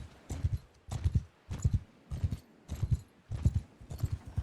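Horse hooves clip-clop in a steady trotting rhythm in Mount and Blade II Bannerlord, evenly spaced paired hoofbeats, close and alone.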